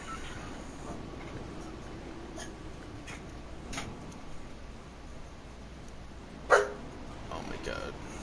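A dog gives one short, sharp bark partway through, standing out above a quiet, steady indoor background with faint taps and ticks.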